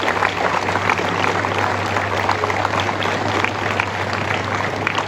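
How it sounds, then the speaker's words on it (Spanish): A church congregation claps loudly for a member's birthday, a dense, continuous patter of hands over a low steady hum, with no clear voices on top. "Nuevamente le damos un aplauso fuerte"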